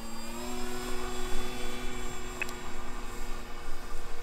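A light 1400mm balsa stick-style RC airplane with a modest electric motor on a 4S battery drones steadily overhead, a continuous buzzing whine with slowly shifting pitch, moderately distant and alone.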